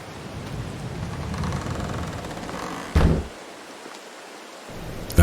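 Rain in the video game Farming Simulator 22, a steady hiss of falling rain that cuts out abruptly partway through and returns, with a brief loud burst just before the drop.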